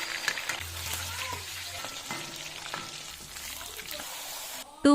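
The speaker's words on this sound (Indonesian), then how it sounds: "Lalu goreng ikan tuna hingga kecoklatan juga." Tuna fries in hot oil with a continuous crackling sizzle, moderately close, with faint background tones and a sharp louder noise at the very end.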